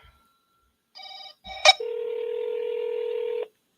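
Phone keypad tones are dialed to call a seller back: a couple of short beeps, a sharp click, then one long steady tone, heard close and clear in a quiet room.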